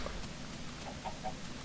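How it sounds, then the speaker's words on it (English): Chickens in the Minecraft video game give a few faint, short clucks over a steady background hiss. "Wait, why do I hear chickens?"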